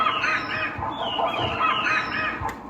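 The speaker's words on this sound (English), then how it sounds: "This has the bird loop" A sampled bird loop plays from an Exotica disc on a keyboard instrument: honking, goose-like calls repeat in a dense, continuous, fairly loud pattern.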